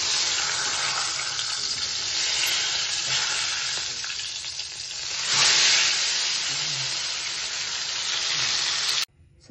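A pork chop frying in a pan, a steady close sizzle that swells briefly midway and then cuts off abruptly near the end.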